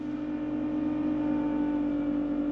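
A salvaged car engine runs just after starting up, a steady, close, unbroken idle hum with a low, even drone and no revving.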